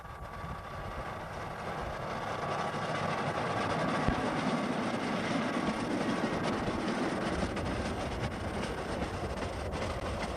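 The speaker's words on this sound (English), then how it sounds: "here's the 3-foot 6 gauge train, the PJKA train, coming along" A 3-foot-6-gauge PJKA train rolls past at Chomal in Indonesia, a steady broadband rumble with faint wheel clatter that holds at an even level for about ten seconds, no voices.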